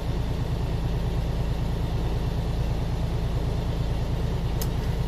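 A truck engine runs steadily at raised RPM during a forced DEF regeneration, giving a constant loud drone with a low rhythmic pulse throughout and no voices.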